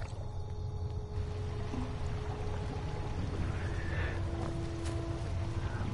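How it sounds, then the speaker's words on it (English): Water pours into a stone basin in Skyrim, a steady trickling flow over a low ambient hum, with a couple of soft chimes and clinks rising near the end. "We gotta pour the water in the basin."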